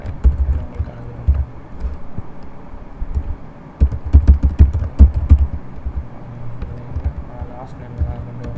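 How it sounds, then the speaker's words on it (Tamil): Keys clatter on a computer keyboard in bursts of quick taps while an HTML form is filled in, with a voice talking over much of the typing and a low hum underneath. "எல்லாத்தையும் சும்மா டைப் பண்ணுறேன்"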